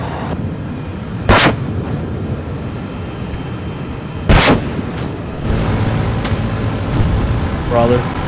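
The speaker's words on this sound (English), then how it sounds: "Somebody is lighting me up with like artillery." Artillery fire in the video game Battlefield 2042, two heavy booming blasts a few seconds apart over rumbling battle noise, with a fainter impact later, a voice talking over the top.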